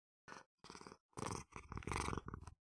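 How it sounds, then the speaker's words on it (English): A cat purrs close to the microphone in several rhythmic bursts separated by brief silences, faint but distinct, with no talking. "She's purring."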